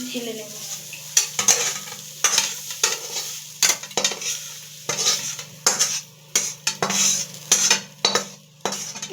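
Vegetables for a vegetarian dal fry in a kadai, with a soft sizzle under sharp, irregular scrapes and clanks of a spatula stirring against the pan.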